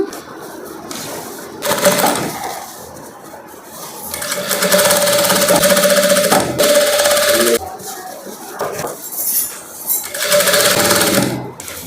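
A sewing machine stitches a folded-under hem on a gown's crepe lining, loud close whirring runs that start, pause and resume, with brief handling noise in the gaps.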